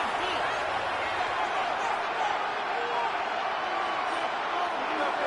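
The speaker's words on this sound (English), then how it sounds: "What about this crowd getting even louder before 3rd and 10?" A stadium crowd in the Madden 26 football game keeps up a constant, dense roar in the final seconds of the fourth quarter before a third-and-ten play, with no let-up.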